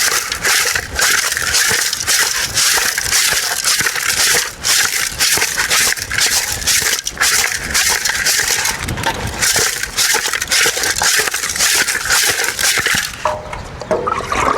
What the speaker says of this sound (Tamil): கல்லுப்பு போட்டு உடச்சி கழிக்கணும்.